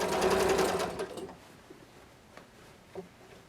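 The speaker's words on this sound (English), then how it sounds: "This is kind of just careful, slow sewing." A sewing machine stitches bias tape around the armholes of a quilted vest, a fast, close rattling run that slows and stops after about a second, followed by faint clicks.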